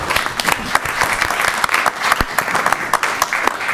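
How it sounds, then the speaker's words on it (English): Applause from attendees at a town council work session after a presentation, a moderate crowd clapping steadily with distinct individual claps standing out. "It's okay if you applaud."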